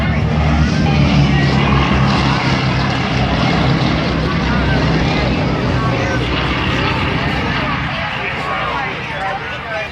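Four Wright Cyclone radial engines of a B-17 bomber, 1,200 horsepower each, roar loudly and steadily at full power on takeoff at an airshow, easing off slightly toward the end.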